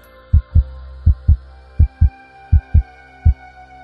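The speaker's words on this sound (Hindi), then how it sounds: "अशोक हिल गया और उसके दिल की धड़कनें असामान्य रूप से बढ़ने लगी।" A heartbeat sound effect for a horror audiobook story: deep, thudding double beats repeat four times in a steady lub-dub rhythm over a low, droning hum, with no voices.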